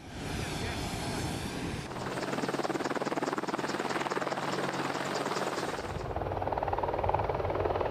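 An AH-64 Apache attack helicopter's rotor and turbine drone runs loud and steady throughout, with a dense pulsing roar close by.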